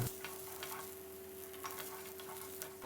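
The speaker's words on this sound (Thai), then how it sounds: "แล้วก็คั่วเครื่องต้มโค้งเราให้สุกหอมเลยครับ" Quiet, steady sizzling with light scraping and ticks as dry spices for tom khlong soup are roasted and stirred in a hot wok, no talking.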